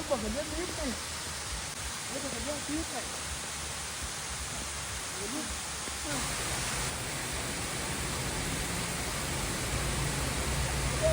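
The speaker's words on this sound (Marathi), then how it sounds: "रस्त्याच्या कडेला अचानक एक सुंदर वॉटरफॉल दिसला." Roadside waterfall in the Himalayas of Arunachal Pradesh, a steady broadband rush of falling water that fills the scene continuously, with faint voices murmuring beneath it early on.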